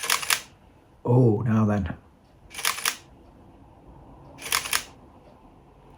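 A Sony A7 camera's shutter fires three times, sharp mechanical clacks spaced a couple of seconds apart, close and loud, with a brief spoken remark between the first two.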